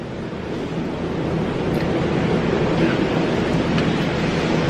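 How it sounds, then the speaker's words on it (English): Strong wind blowing outdoors, a steady loud rushing roar buffeting the microphone for the whole stretch, with no other clear sounds over it. "the wind though"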